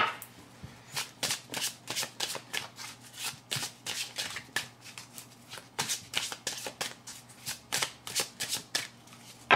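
Tarot cards are shuffled and handled up close, giving quick repeated riffling flicks in an irregular rhythm with no talk.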